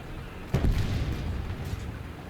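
A tank shell slams into an enemy tank's ammunition in War Thunder, a single sudden boom followed by a rumbling blast that slowly fades.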